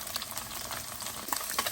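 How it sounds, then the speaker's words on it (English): Tofu frying in a pan for a sweet and sour dish, a steady close sizzle with faint crackles and a few brighter pops, no voices. "there's my tofu just frying away,"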